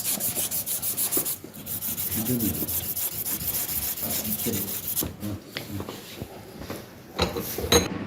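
Steady, rough scraping of coarse iron sandpaper rubbed back and forth over a vehicle starter motor part, close and continuous, with brief pauses and shifts in stroke.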